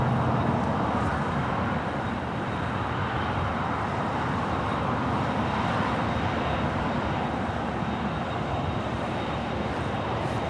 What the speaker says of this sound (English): A 777 freighter lighting up.